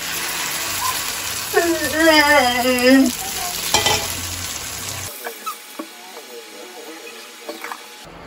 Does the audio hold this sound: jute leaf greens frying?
yes